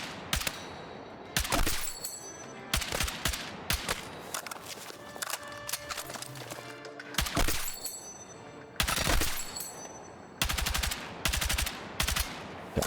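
Rapid bursts of full-auto gunfire from a video game weapon, loud and close, several sustained volleys broken by short pauses, with clicks and mechanical sounds between bursts.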